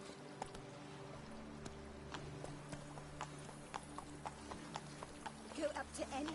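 A horse gallops in a Witcher video game, with rapid, close hoof clip-clops in a steady rhythm, a short whinny near the end and a voice speaking over the hoofbeats.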